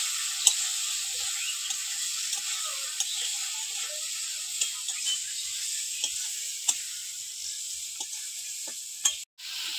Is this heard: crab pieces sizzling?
yes